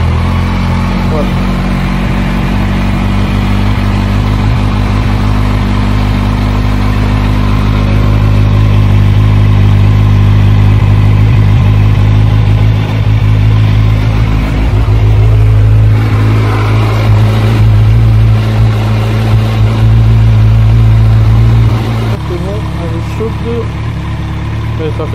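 Kawasaki Z1000 motorcycle fitted with an SC Project exhaust, engine running loud and close at a steady idle with a slight rise in the middle before dropping near the end; no clear revving bursts.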